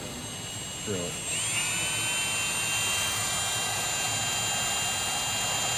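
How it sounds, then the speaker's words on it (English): A high-pitched power drill whines steadily after a brief spin-up, drilling holes in a Peterbilt 389 truck, running continuously at close range with a constant drone. "You got to drill some holes in it"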